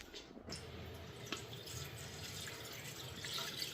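Milk pours into a pot in a home kitchen, a thin continuous liquid stream splashing softly and fairly close, quiet overall, with no talk.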